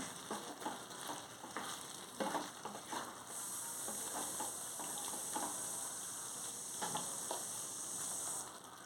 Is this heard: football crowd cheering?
no